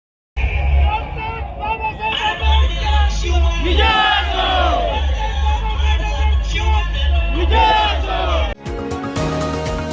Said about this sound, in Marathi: सर्व पदाधिकारी व कार्यकर्ते यांनी उपस्थित राहून जल्लोष केलाय